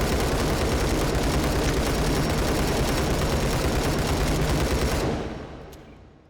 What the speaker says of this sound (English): Let's see how fast we can do that full auto, and how accurately.